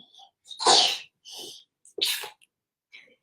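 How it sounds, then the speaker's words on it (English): A young girl sneezes clearly and close by, a sharp double sneeze with a quick intake of breath before it and a small trailing sniff afterward, in an otherwise quiet room. "It's my beautiful daughter sneezing."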